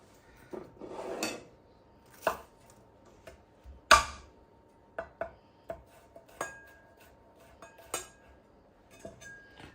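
Garlic is bashed for marinated lamb kebabs in a kitchen, giving irregular, sharp knocks and clinks spaced a second or so apart. The hits are fairly close but soft, over a quiet background.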